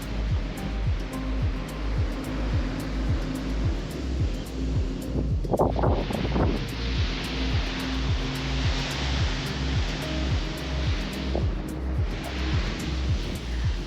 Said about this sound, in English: look at the waterfall right there while I talk